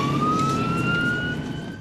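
A road emergency vehicle's siren wails close by in a steady rising tone over engine and traffic rumble, fading slightly toward the end.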